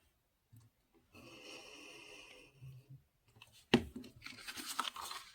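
Scissors snip through decorative paper during a romantic, feminine paper craft, giving a brief rustling cut followed by a sharp snip and a burst of crisp paper handling, fairly close and with no talk.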